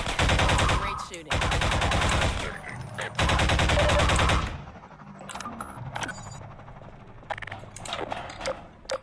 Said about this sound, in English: Great shooting.